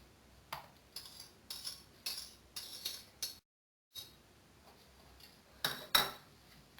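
Egg yolks and sugar are mixed in a steel container, giving soft metallic clinks and scrapes in short irregular bursts, faint and close, with a brief silent pause midway.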